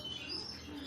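Captive-bred goldfinches kept in an aviary give a short burst of faint, high chirps and twittering over a quiet background.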